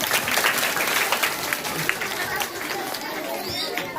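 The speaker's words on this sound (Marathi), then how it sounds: "जोरात टाळ्या वाजवायच्या." A crowd claps steadily in applause at a children's prize-giving ceremony in Talegaon Dabhade, the dense patter continuing under background chatter and voices.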